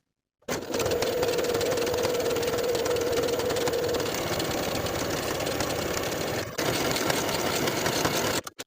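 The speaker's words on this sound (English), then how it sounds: "Sew with a 5/8 inch seam allowance" Sewing machine running steadily while stitching the underarm seam of a jersey knit sleeve, a continuous mechanical hum with a brief pause near the end before resuming, close and loud, no talking.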